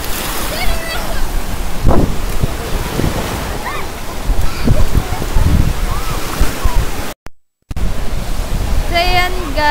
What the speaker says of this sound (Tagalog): ito na yung dagat ng Hyperwash Beach